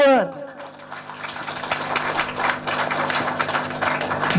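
Scattered clapping builds into steady applause from a crowd, with a voice speaking over it at the start.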